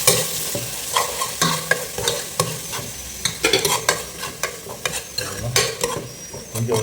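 Turmeric and chili powder frying in hot oil for a fish curry, a steady close sizzle broken by repeated scraping stirs throughout, with no voices.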